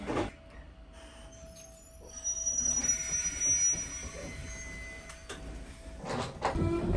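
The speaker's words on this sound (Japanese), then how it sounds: "列車は西春江ハートピア駅に到着。" A train of the Echizen Railway in Fukui, Japan, rumbles into Nishi-Harue Heartpia Station and slows, with a thin high squeal from the wheels over a low rolling drone, then clanks as it settles.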